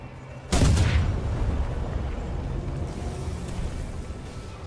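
A heavy explosion bursts out in the Titanfall 2 campaign, a loud sudden boom followed by a long rumbling roar that slowly fades over several seconds, with no voices.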